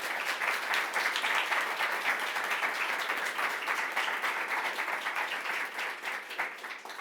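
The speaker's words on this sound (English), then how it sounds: "one big round of applause for Katrin." A conference audience at a web development event applauds a speaker, a sustained full wash of many hands clapping, loud and steady, tapering slightly toward the end.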